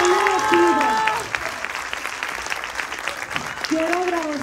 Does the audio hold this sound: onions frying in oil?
no